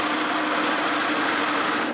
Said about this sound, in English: I begin by using my biggest hole saw and drilling a hole in a piece of scrap.